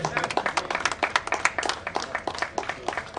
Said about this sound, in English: An applause for Naim, please.